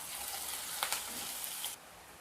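Chopped green chillies frying in oil in a pan for vegetable cutlet, a soft, faint sizzle with a couple of brief spatters, then cutting off abruptly near the end.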